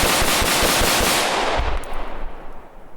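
A cheap PSA M4 carbine AR-15 empties its magazine in a fast, continuous string of loud, close gunshots lasting about a second and a half, followed by fading echoes.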